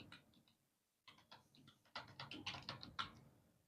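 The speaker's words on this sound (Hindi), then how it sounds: "जैसे मैं एक विद्यालय का यू डैश टाइप कर रहा हूं।" Typing on a computer keyboard to enter a school code, heard as a short run of quiet, close key clicks. There is a brief pause, then a faster, denser burst of taps.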